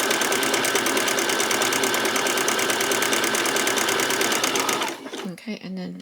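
Sewing machine stitching the top seam of a doll's peasant top, a loud, steady rapid chatter running for about five seconds before stopping abruptly, followed by brief handling noises.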